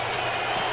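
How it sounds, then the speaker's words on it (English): A football stadium crowd at a Falcons at Colts game roars in a dense, continuous wash of cheering and applause. The sound is brief and distant-sounding, and nothing else stands out over it. "The crowd making some noise."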